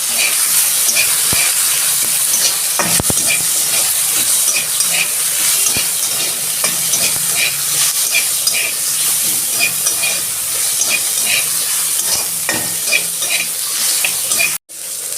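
Green chillies and tomatoes frying in a pan for vegetarian dal, giving a steady loud sizzle throughout with occasional stirring scrapes and a brief cut near the end.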